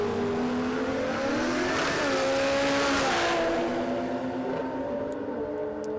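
An LS V8-powered Holden Commodore drag car launches at Warwick Dragway in Australia, a loud, close engine roar climbing steadily through the gears and holding high revs as it pulls away.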